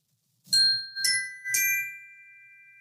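Three bright bell-like chime tones ring one after another about half a second apart, each with a clear ringing overtone and a lingering decay, signalling a completed exercise in a gratitude practice session; no voices.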